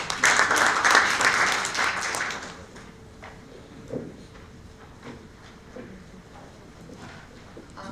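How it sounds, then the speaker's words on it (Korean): Applause from a symposium audience welcoming a presenter on stage, dense and loud clapping for about two and a half seconds before quickly dying away into a quiet hall with a few scattered claps. "뜨거운 박수로 맞이해 주시기 바랍니다"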